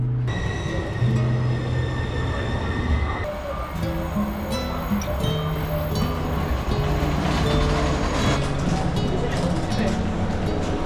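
Steady rumbling of a rural Japanese train interior in motion, with clinks and rattles throughout and a brief shift in the noise partway through.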